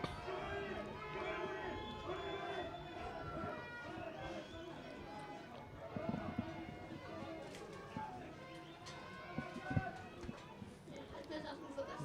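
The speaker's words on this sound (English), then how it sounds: "See the Vipers making their way out onto the field now. To a gentle roar from the crowd." A stadium crowd at a 2013 Digicel Cup rugby semifinal in Papua New Guinea gives a steady, moderate roar as the Vipers run onto the field, with scattered shouts and whistles rising briefly through the sustained noise.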